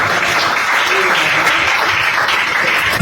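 A church congregation at a revival seminar applauds, dense sustained clapping filling the room at an even level with a few cheering voices mixed in.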